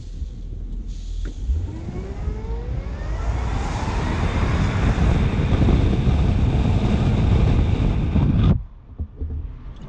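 Supercharged Jaguar XJR accelerating hard on a road, its engine roar climbing steadily under heavy wind buffeting for about eight seconds, then dropping off sharply.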